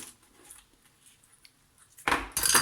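A knife slices through a homemade Marseille-style pizza on a board, with two short loud bursts of cutting and scraping close by after a quiet lead-in.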